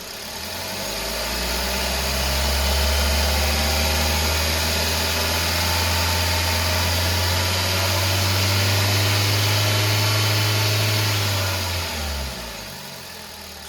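The engine of a 2016 Hyundai Elite i20 Sports is held at raised revs under the accelerator for about ten seconds, a steady loud hum that falls back toward idle at the end, nearby with no talk.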